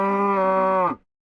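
A single long cow moo from Minecraft, loud and close, holding a steady drawn-out tone for about a second before cutting off abruptly into silence.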